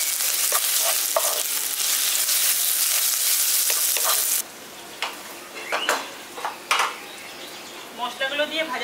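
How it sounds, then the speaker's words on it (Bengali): Spices with Kashmiri chilli powder and a pinch of sugar frying and sizzling in a pan for a jackfruit muitha dish: a loud, steady hiss for the first half, then quieter sizzling broken by stirring clinks and scrapes. "মশলাগুলো দিয়ে ভাজা ভাজা করে নিয়েছি"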